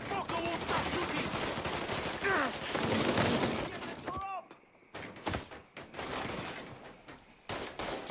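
Gunfire from a Mafia 3 shootout crackles in dense rapid bursts, loud and continuous for several seconds before breaking into scattered shots, with talking and shouting voices mixed in.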